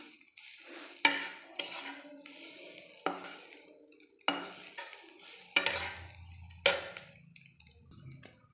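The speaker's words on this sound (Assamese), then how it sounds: "আৰু 2 মিনিটমান ভাজিম।" Brinjal and spices frying in a pan, with a steady soft sizzle broken by repeated scraping stirs of a utensil at irregular intervals. The sound is close and moderately quiet, with no talking.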